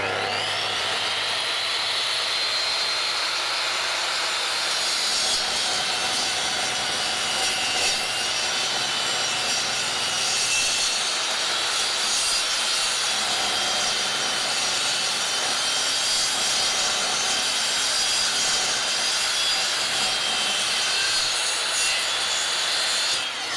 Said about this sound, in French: je vais faire une découpe comme ceci, hop, à 45 degrés